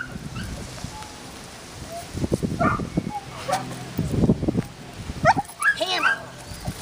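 A four-month-old retriever puppy whimpers and gives short yips and barks during bird retrieving training, close and intermittent, with a person talking in between.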